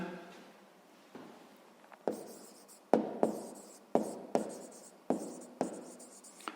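A pen scratches on paper close by as numbers for a sixth-grade maths exercise are written out, a string of short strokes and taps in an irregular rhythm, with quiet talking in between.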